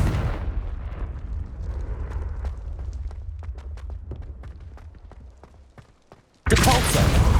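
A Confringo spell blast in Hogwarts Legacy lands as a low rumbling boom that trails off into scattered crackles and debris ticks, then a sudden loud, bright burst cuts in near the end.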